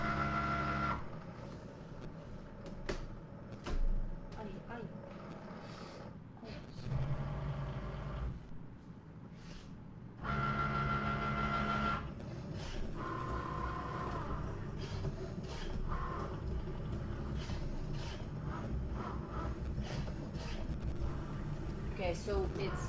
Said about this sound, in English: So here you see the cutting the fabric.